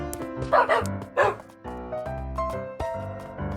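A dog in a video game dog mod lets out several short barks and yips in an uneven rhythm, moderately loud over a soft game background.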